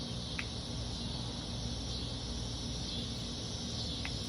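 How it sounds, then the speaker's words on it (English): A continuous, high-pitched insect buzz of cicadas hums steadily in the background, even and unbroken, with a faint chirp or two over it. "Can y'all hear that? Those are called cicadas."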